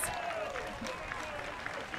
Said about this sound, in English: The crowd on their feet, absolutely on their feet, cheering here.